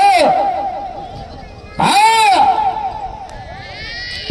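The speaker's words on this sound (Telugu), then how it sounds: "కేకలు కేరింతలు" Crowd shouting and whooping at a bullock cart pulling race, with bursts of raised voices and a loud surge near the middle over steady background hubbub.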